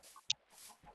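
A hen clucks after laying an egg: a few short, close clucks and a sharp squawk break up a quiet, brief moment, with faint rustling between the calls.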